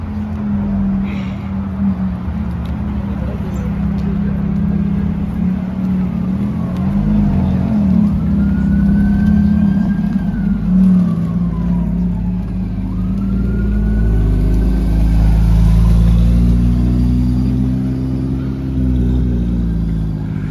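A Porsche sports car said to make 1,000 horsepower, at a breakfast car meet at a dealership, its engine rumbling steadily and loudly with a couple of rising rev sweeps.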